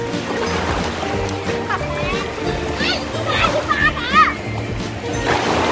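Children run into the sea at a summer beach, water splashing and sloshing around them under nearly constant excited chatter from kids and adults, with a few brighter splashes toward the end.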